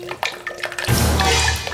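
Coconut milk drains from holes in an upside-down coconut into a container, a short steady stream of pouring liquid that starts after a few light taps.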